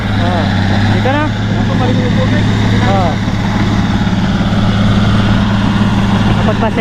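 A loud, droning engine runs steadily up close with a low hum, while people talk over it.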